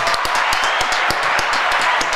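A small audience in a Latin podcast studio claps, with brisk, uneven handclaps close by and a faint voice beneath.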